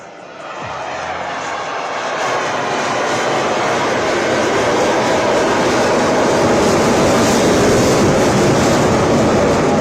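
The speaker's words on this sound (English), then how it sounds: "As they carry out the slow speed run, do notice how gracefully they glide past you" Military aircraft at an Indian Air Force Day air show in Chandigarh, flying a slow speed run: a loud, sustained broadband engine roar that rises in the first seconds and holds steady and close throughout.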